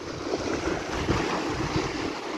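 Black Sea surf and wind on the Odessa shore, with a broad rushing wash of waves and gusty wind noise buffeting the microphone, loud and close throughout.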